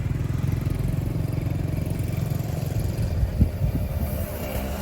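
Vehicles wait in a queue on a road in South Sulawesi, motorcycle and car engines idling and puttering steadily nearby with a low continuous drone, a brief clatter midway, and no talk.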